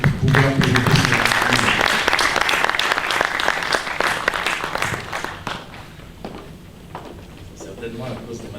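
Audience applause at a Christian literature fair in Kinshasa, a loud, dense burst of clapping that thins and fades over several seconds, with scattered claps continuing under some talk near the end.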